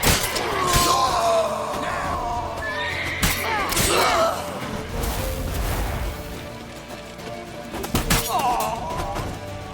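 A horse neighs and whinnies loudly in The Witcher 3 video game, with several shrill cries over a busy rumbling scene and shouting voices.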